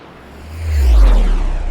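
Airplane taking off, a swelling roar that builds to a loud peak and holds as it sweeps past, with no talk.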